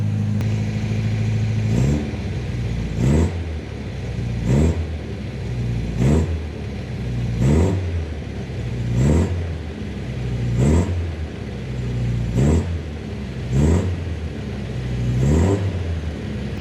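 Cold car engine pushed through its exhaust in repeated blips to roughly 2000-3000 RPM, about ten loud rhythmic roars at steady intervals over a constant idle rumble, heard close with no voices.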